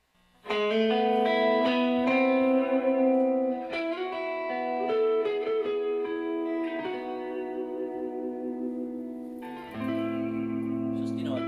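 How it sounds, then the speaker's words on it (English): Clean electric guitar chords through a Carr Mercury amplifier ring out with a wet, splashy spring reverb tail, strummed loudly with sustained notes and a new chord near the end. "Touch of the Mercury reverb in there."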